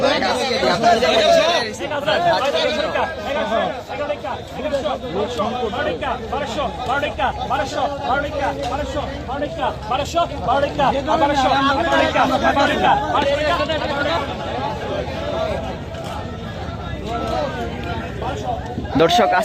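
A busy riverside fish market by the Padma, selling river fish and prawns, fills the air with a dense, steady babble of many voices talking at once, close and continuous throughout.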